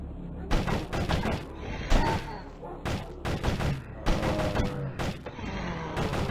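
Rapid bursts of explosions and blasts from blown-up canisters in a Flash game, loud and chaotic, come in clusters with brief gaps between them.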